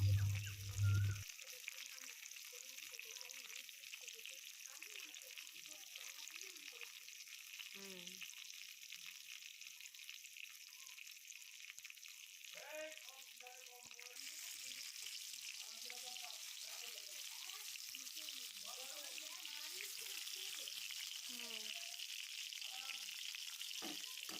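Pointed gourd (potol) slices fry in oil in a pan, giving a steady, moderately quiet sizzle with faint crackles throughout, alone without talk.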